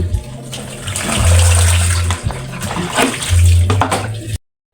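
Water runs from a tap while food ingredients are rinsed in a kitchen, a continuous close gushing with shifting splashes that cuts off abruptly at the end.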